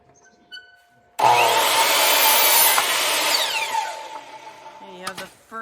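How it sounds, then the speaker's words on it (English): A power saw cuts mitered pallet wood boards in one loud, sustained rasping pass of about three seconds that tapers off, followed by a few clunks of the boards being handled. "I'm going to cut all my boards"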